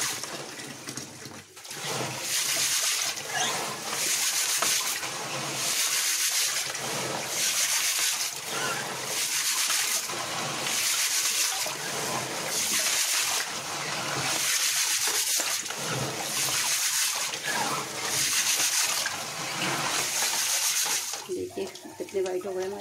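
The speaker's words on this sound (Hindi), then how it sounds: "इनको हमें हाथ से ऐसे ऐसे रगड़ना है ताकि इनसे सारी गंदगी निकल जाए" Aquarium stones being scrubbed by hand in a basin of water, a steady rhythmic sloshing and grinding that pulses roughly once a second, close and loud, running continuously for the whole stretch.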